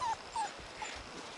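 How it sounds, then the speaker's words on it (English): A young puppy from a litter gives a few thin, high whimpers, two short cries then a brief fainter one, soft and close in an otherwise quiet room. "Nope, that's Naomi's puppy"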